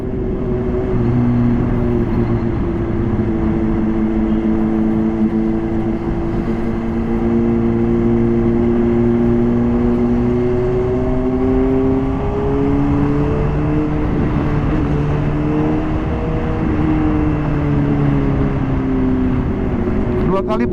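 A Honda CBR 600 RR HRC Edition motorcycle is ridden on the road, its engine droning loud and continuous with the pitch rising and falling as the throttle changes, with no talk.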